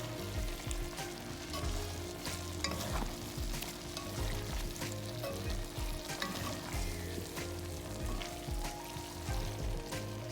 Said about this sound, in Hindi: नूडल्स डालने के बाद मैं चम्मच के साथ में इसे मिक्स करूँगी